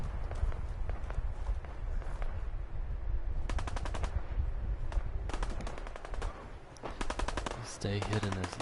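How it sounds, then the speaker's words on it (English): Bursts of automatic gunfire from raiders attacking the Minutemen in Fallout 4, rattling in several rapid volleys over steady background game noise and music. "Gunfire, that's the ones attacking the Minutemen."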